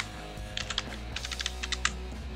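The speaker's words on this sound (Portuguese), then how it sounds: "Aqui em título eu vou digitar tweet para poder facilitar a identificação." Someone types on a computer keyboard: a few quick, light key clicks in short bursts over a low steady hum, fairly faint, with no voices.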